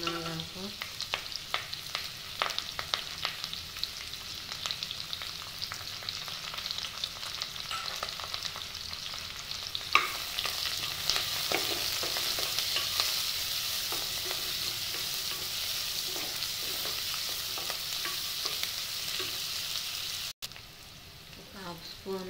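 Drumstick leaves stir-fry with chickpeas, potato and green chillies in a pan, a continuous hissing sizzle with scattered scrapes and stirs, growing louder partway through before briefly dropping near the end.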